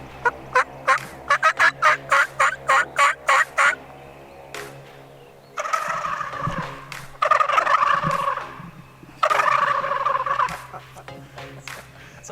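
Wild turkey gobbling in response to a hunter's call: a rapid burst of loud, rattling gobbles followed by further long, strong gobbles, fairly close and with no talk over them.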